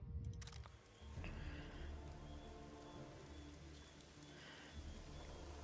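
Rain falling in The Witcher 2 video game, a steady, continuous patter on surfaces with a brief crisp click near the start, filling the scene at even loudness.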